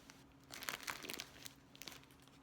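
A bag of thrift store sewing trims, including ribbon, binding and rickrack, crinkles and rustles in bursts of plastic crumpling as it is handled, faint and close, with no talking.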